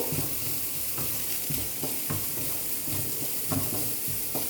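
Spiced mixture seasoned with chaat masala and roasted cumin powder stirred steadily in a pan, a continuous close sizzle and fry broken by repeated scraping strokes of the spoon, with no talk.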